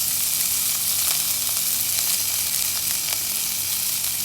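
Ginger, green chilies, curry leaves and hing sauté in hot oil with cumin seeds, a steady dense sizzle running throughout with small crackles and pops scattered over it, close and fairly loud with no talk.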